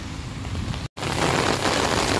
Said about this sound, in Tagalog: lumalakas na naman po ulit yung ulan. Ayan, so bumuhos na naman po